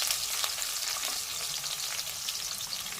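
Chopped onions frying in hot oil for chicken curry, a loud, continuous sizzle from start to finish with faint stirring underneath.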